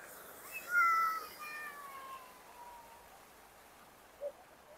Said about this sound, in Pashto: واخه پشي وګورئ چیرې راغلې